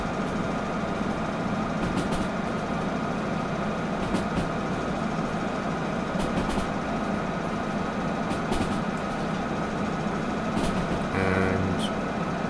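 A locomotive in the Derail Valley simulation game runs at around 80 on a hauling run, producing a steady, dense rumble and rolling roar with faint periodic clicks from the track, and no voices.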